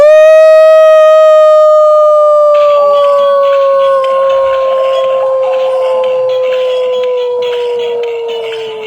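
A person's voice imitates a wolf howling at the moon: one long, loud, wavering howl that slowly falls in pitch, with other voices or noise joining partway through.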